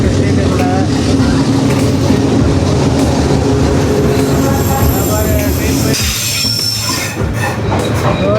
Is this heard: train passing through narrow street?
yes